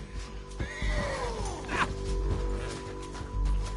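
A horse in the video game Red Dead Redemption 2 whinnies loudly up close, a high wavering neigh, over a low background hum and faint thumps.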